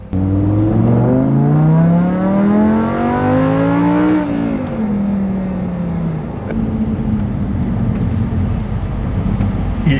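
A chip-tuned Lamborghini LP-610 with a V10 engine accelerating hard on a test drive, loud and close, its rising engine note climbing through gears with a shift near the middle, then settling into a steady roaring cruise.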